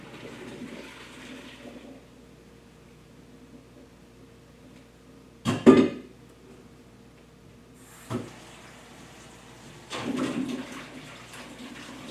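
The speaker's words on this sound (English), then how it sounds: "take this and rinse it out with cold water" Cooked pasta is rinsed under cold running water in a kitchen: a low background hiss, a sharp splash and clatter midway, a brief knock, then another gush of water.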